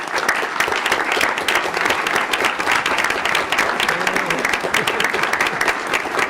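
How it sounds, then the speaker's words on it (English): A school board meeting audience gives steady, moderately loud applause for standing parents and grandparents, dense overlapping claps continuing throughout. "we're going to have you stand for a quick round of applause."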